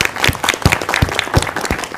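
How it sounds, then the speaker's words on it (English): Audience applause after a talk on the rights of differently abled people: a short burst of clapping with a few distinct, close claps standing out, loud and fairly steady, with no talk over it. "I think you need a round of applause."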